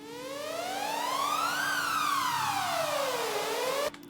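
A synthetic siren sweeps up over about a second and a half and then glides back down, bright and prominent, in a dubstep remix drop. It cuts off abruptly near the end.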